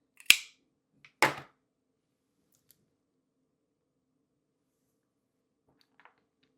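Scissors snip a Scindapsus plant during repotting, with two sharp close cuts near the start, a faint click in between, and near-silence after.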